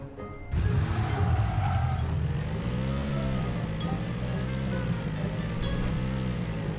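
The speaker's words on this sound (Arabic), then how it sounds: "اسمع صوت سيارة" Car engine in PUBG starting up abruptly and then running at a steady, loud idle-to-cruise drone with a low rumbling hum, close by and without talk.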